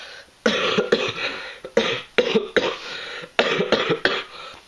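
Someone with a bad cough and cold coughs repeatedly in harsh, chesty bursts, several in quick clusters with short breaths between, close and loud.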